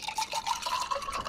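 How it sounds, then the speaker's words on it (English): Cocktail poured from a shaker cup back into a glass, a steady close splashing trickle of liquid with bubbly gurgles, no talking. "And then you just pour it straight back in and leave a little bit of room on the top for the soda."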